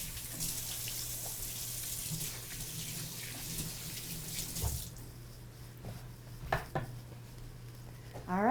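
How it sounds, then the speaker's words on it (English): Tap water runs steadily into a sink as hands are washed in a home kitchen during a cooking show, a continuous broadband rush with a few clinks and splashes, the flow easing partway through. "I'm going to wash my hands."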